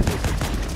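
A cannon tower in the Helldivers 2 game fires in a rapid, rumbling barrage of booming blasts, loud and close, with a voice faintly mixed in.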